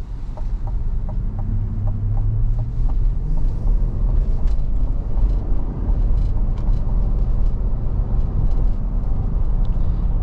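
A 2023 Chevy Tahoe Z71 accelerates up a hill, its engine a loud, steady low rumble with road and cabin noise and some faint ticking on top.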